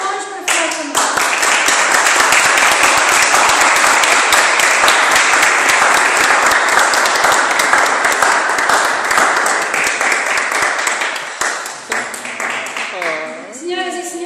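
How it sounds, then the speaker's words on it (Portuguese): A Catholic family gathering in Dublin breaks into loud, sustained audience applause, many hands clapping densely for about twelve seconds before thinning out, with a voice coming in near the end. "eu queria que vocês dessem uma salva de palmas"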